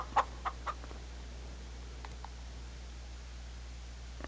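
Farm chickens in Farming Simulator 25 let out a few short clucks at the start, then fall mostly quiet with a couple of faint calls, all over a steady background hum.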